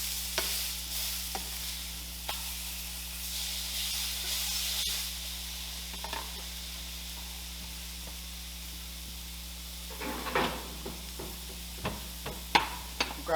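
Pork chops sizzling in a pan, a steady hiss of frying with occasional sharper crackles and pops, close and moderately loud with no talking.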